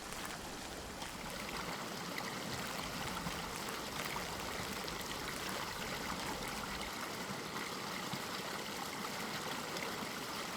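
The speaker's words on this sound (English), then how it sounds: "This is the Duerna River, a modest river only 54 kilometers long." The Duerna River, a modest 54-kilometre river once worked by Romans for gold, flowing steadily with a continuous close rush and babble of water, broadband and even throughout without voices.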